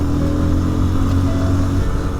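Yamaha RX 100 motorcycle engine running steadily with a deep, continuous throb, loud and close throughout, no talking, during off-road riding.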